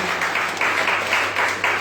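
Congregation clapping in a church, steady rhythmic applause in pulsing bursts, close and fairly loud.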